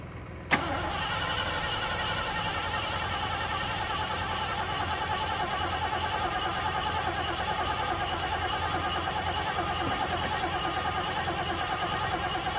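A 1973 Ford Gran Torino, sitting unused for 35 years and freshly fuelled in the carburettor, cranks steadily on its starter without firing, a continuous close churning whir that follows a brief click at the start.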